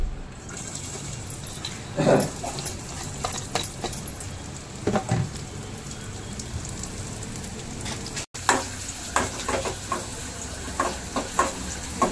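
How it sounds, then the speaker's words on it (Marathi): Chopped onion sautés in hot oil in a pan, a soft steady sizzle broken by occasional scraping stirs and light clinks of a utensil against the pan, close and moderately quiet. "तेल गरम करून कांदा त्याच्यामध्ये व्यवस्थित परतून घेतलाय।"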